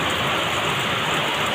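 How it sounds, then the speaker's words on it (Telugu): Heavy rain pours steadily at a construction site, a dense, even hiss with no pauses, loud and close, with no voices over it. "వర్షం చాలా ఎక్కువ అయిపోయింది"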